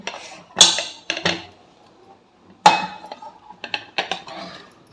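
Khaman dhokla is released by tapping on a plate: a handful of sharp, bright clinks of dishware ring out close by in irregular bursts, separated by short quiet gaps.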